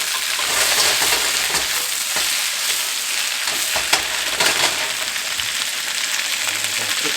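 Asparagus sautéing in a pan gives a loud, continuous close-up sizzle and crackle, with occasional stirring knocks and no talking.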